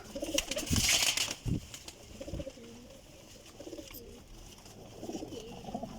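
Soft, rolling coos of flying-breed pigeons at a breeder's repeat close by, with a burst of flapping wings and a couple of thumps early on, then quieter cooing continues.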